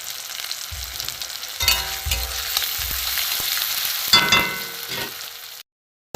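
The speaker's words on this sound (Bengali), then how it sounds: "পেঁয়াজটা একটু ভাজা ভাজা হচ্ছে, আগে রসুনটা কাঁচা গন্ধটা চলে যাবে।" Onion and garlic fry in hot oil in a pan for a Bengali fish-head muri ghanto, a steady close sizzle with stirring bumps and occasional crackle, alone without talk, cutting off abruptly near the end.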